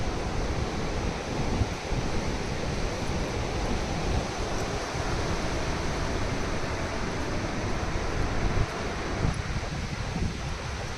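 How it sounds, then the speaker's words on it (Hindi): Strong wind at Montmorency Falls in Quebec, Canada roars steadily into the microphone, a dense unbroken rush with gusty buffeting throughout. "बहुत तेज़ हवाएं चल रही हैं"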